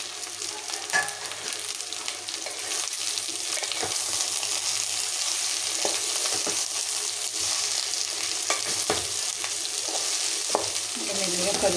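Okra fries in a pan while being stirred slowly, a steady oil sizzle with repeated soft scraping and tapping of the spatula throughout.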